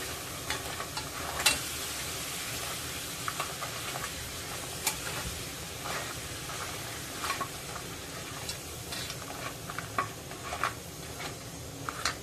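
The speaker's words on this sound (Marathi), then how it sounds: "आता ही चिंबोरी 2 ते 3 मिनिटं आपल्याला परतायची आहे मसाल्यामध्ये" Crabs fry in a spicy masala in a pan, sizzling steadily throughout while a spoon stirs them with scattered scrapes and clinks, close and continuous, with no talking.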